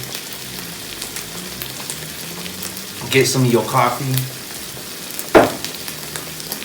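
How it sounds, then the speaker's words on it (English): Chorizo and eggs sizzle steadily in a hot pan, with a brief remark spoken partway through and a sharp clatter near the end. "you just watch it cook a little bit, let it sizzle"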